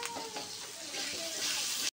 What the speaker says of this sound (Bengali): এবার একে একে লবণ হলদি দিয়ে দেব, হলুদ গুঁড়ো, লবণ দিয়ে ভালো করে এটা কষায় নেব